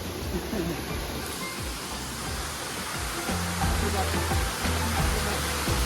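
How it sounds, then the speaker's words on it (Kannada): Rushing monsoon waterfall on the Netravati peak trek fills the clip as steady broadband noise, with low rumbling undertones growing stronger toward the end. "guys this is second water falls and water crossing"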